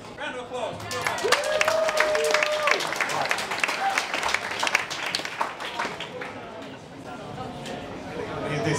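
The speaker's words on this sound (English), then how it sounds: "applause" An audience at a physics-in-the-pub talk gives a round of applause for a presenter, moderately loud clapping that swells and then thins, with some chatter.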